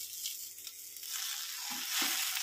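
Spinach dropped into a pan of onions softened with salt, hissing and sizzling steadily in hot oil, with a couple of brief stirring scrapes near the end.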